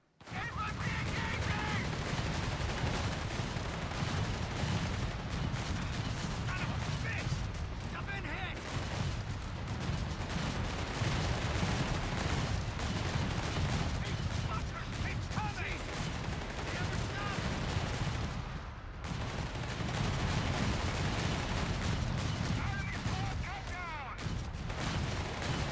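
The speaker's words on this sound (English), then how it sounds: "Let's see how fast the 8-Rad can shoot through riflemen." An 8-Rad armoured car's machine gun fires on riflemen in Company of Heroes 3, dense sustained bursts of gunfire and battle noise rattling almost without pause, with a voice talking over the shooting.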